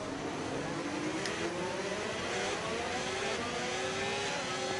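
F1 race car engines in the F1 25 video game, cars side by side during an overtake down the inside, a steady loud engine drone with rising pitch sweeps as the cars accelerate.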